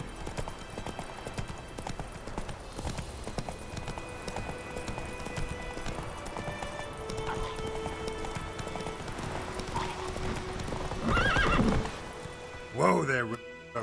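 Hooves of Roach, a horse in The Witcher 3, clip-clopping at a steady rhythm across the ground, then a loud whinny near the end, with game music and a voice speaking over the riding.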